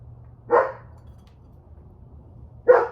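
A dog barks twice, about two seconds apart, fairly close and clear against a quiet background.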